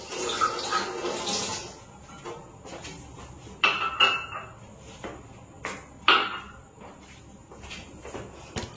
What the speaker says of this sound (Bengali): তাই এখন জল ভরছি।